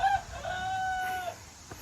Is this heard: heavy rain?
no